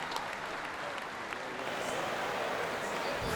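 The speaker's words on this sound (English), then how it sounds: "a big round of applause for the Barrett-Jackson Cup Ultimate Best in Show winner, Eugene Botello and BBT Fabrications." A crowd applauding at the Barrett-Jackson car auction in Scottsdale for a best-in-show winner, a dense sustained burst of clapping and cheering that swells toward the end.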